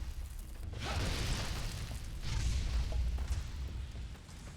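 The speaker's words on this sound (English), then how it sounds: "You throwing firebombs at me?" A firebomb bursts in Fallout: New Vegas with a loud, low boom and a whooshing roar of flame that swells and fades, followed by a second fiery burst a moment later.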